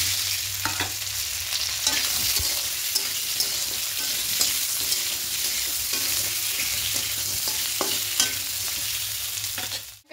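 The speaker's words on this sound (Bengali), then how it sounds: "এবার এই তেলের মধ্যে সেদ্ধ করে কেটে রাখা আলুটা দিয়ে দেব।" Boiled, cut potatoes fry in hot oil, a loud continuous sizzle close by, punctuated by repeated scraping stirs of a utensil against the pan, with no talking.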